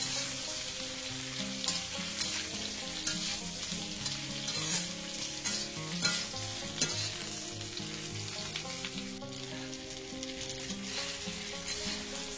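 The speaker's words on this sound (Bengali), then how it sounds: "একটু ভাজা ভাজা করতে হবে। আলুর সাথে এইভাবে ভেজে নেব আমি।" Potato and eggplant frying in a pan for a Bengali dry-fish dish, with a loud, steady sizzle and crackle of oil throughout and no one talking.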